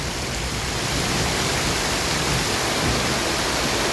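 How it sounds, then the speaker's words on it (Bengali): Heavy rain pours down steadily in Malaysia after several hot days, a dense, unbroken hiss with no pauses and no voices. "দেখতে পাচ্ছেন প্রচুর পরিমাণ বৃষ্টি হচ্ছে মালয়েশিয়াতে"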